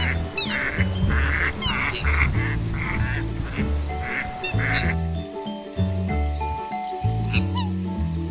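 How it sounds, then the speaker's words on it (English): Mallard duck quacking repeatedly in a busy farmyard, several loud nasal calls in quick rhythmic bursts, with other honking fowl and layered farm noise close by. "The mallard is an example of a dabbling duck."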